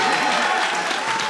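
Brief burst of crowd applause during a live stream, a short, uniform, hissing wash of clapping with no distinct individual claps or speech.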